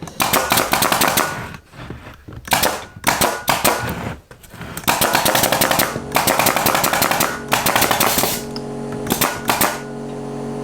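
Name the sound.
pneumatic nail gun firing nails into wooden pallet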